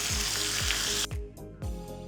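Chopped ginger, mustard seeds and cumin sizzle in hot oil in a small tempering ladle, a loud, close frying hiss that cuts out abruptly partway through and then resumes in short bursts.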